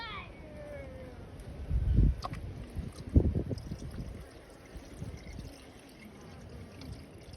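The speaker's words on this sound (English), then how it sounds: "I'm just going to see if I can pour it directly into there." Sugar syrup poured into a beehive frame feeder outdoors, heard as soft liquid splashing and gurgling in two short bursts, fairly faint, with quiet handling noises between.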